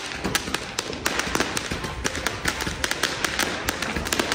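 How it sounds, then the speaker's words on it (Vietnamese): Multi-shot firework cake going off on New Year's Eve in a rural village, a rapid, steady string of sharp cracking bursts at close range, loud and continuous. "Bánh pháo hoa nè cả nhà."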